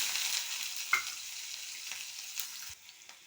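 Onion and garlic fry with mustard seeds in hot oil, giving a steady, fairly quiet sizzle with a few brief stirring clicks and knocks, no voices.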